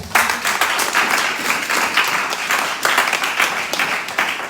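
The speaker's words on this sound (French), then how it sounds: "Acclame encore très très fort" A congregation at a church worship service applauds loudly and steadily, a dense wash of clapping with surges throughout and no break.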